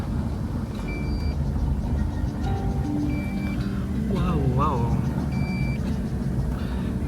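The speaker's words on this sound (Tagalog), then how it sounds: "Yung drone nag-a-alarm." A drone sounds its alarm outdoors at Igtuble in Tubungan, Iloilo, with pairs of short, high electronic beeps repeating every second or two over wind and background rumble. People talk and exclaim briefly over the beeping.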